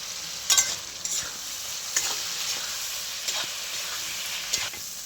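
Fried potatoes tossed into a sizzling spice paste in a pan, continuous close frying hiss broken by several sharp stirring scrapes and clatters, with no talking.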